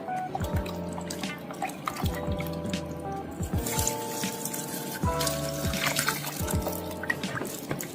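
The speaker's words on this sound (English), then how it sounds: "add your beef stock." Beef stock pours into a pot of rice for a one-pot Mexican turkey rice, a steady liquid trickle and splash running for several seconds, close and fairly loud, with faint clinks over the flow.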